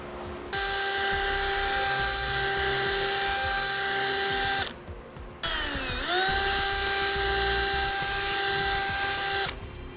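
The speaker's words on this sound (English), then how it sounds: "We're going to mark our holes so we can drill them out." A power drill whines at high speed in two long runs, drilling bolt holes in a 2007 GMC Sierra, separated by a brief pause, the pitch dipping then recovering as it spins up again.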